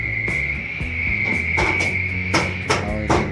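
Hammer blows knock a bearing off the shaft of a window-type air conditioner fan motor, about eight sharp metallic strikes in an uneven rhythm over a steady ringing tone, close and loud, with no talking.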